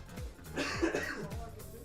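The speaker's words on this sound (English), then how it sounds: "Pardon me, I keep coughing." A couple of brief, muffled coughs sound close by against a soft background hum.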